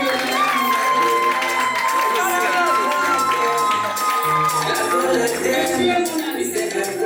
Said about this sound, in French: Est-ce qu'on peut applaudir très fort pour